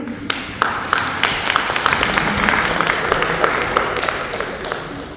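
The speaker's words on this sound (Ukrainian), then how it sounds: "Можна підтримувати наших спікерів оплесками." Audience applause at a civil society and volunteering forum in Chernihiv region, greeting the speakers: scattered, moderately loud clapping for about five seconds, with sharp individual claps over a steady patter and some faint voices underneath.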